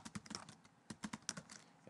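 Quiet, close keystrokes on a computer keyboard while entering a Prolog query, a sparse run of separate clicks with short pauses between them.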